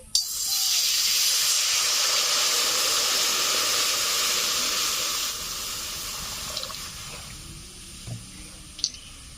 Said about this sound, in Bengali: কড়াইতে দিয়ে দিচ্ছি জল।